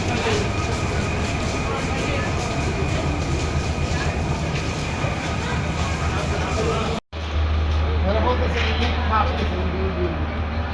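A passenger train stands at a station platform before dawn on the Chattogram to Cox's Bazar route, with continuous engine hum and platform bustle, then a muffled cabin rumble after boarding; faint voices sit under the noise.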